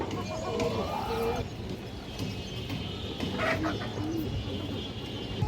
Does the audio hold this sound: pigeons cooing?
yes